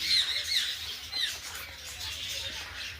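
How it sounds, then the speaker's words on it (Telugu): Flock of lovebirds in a zoo aviary, a busy chorus of high chirps and squeaks with occasional squawks, moderately close and fairly quiet, with soft rustling underneath. "మంచి సందడి చేస్తున్నాయి లవ్ బర్డ్స్."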